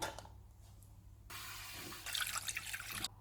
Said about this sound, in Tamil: ஒரு டம்ளர் தண்ணி சேர்த்து வேக வைக்கிறேன்